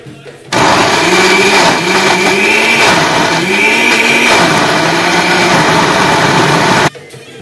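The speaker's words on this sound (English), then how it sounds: "Now put the chilies, garlic and spices into a blender." A blender whirs loudly at close range, blending chilies, garlic, spices and olive oil, with the motor starting abruptly, running steadily with slight pitch wavers as the thick paste churns for about six seconds, then cutting off.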